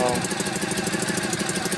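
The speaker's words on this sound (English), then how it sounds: "Now she's hot, now she's idling" A 1976 Harley-Davidson FXE engine idles up close, a loud steady pulsing lope with rapid even beats throughout.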